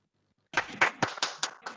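After a moment of silence, a small group claps at a virtual Dussehra celebration at a learning academy, with six uneven, close bursts of hands clapping.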